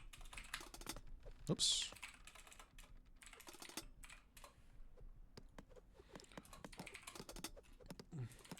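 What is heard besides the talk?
typing on a computer keyboard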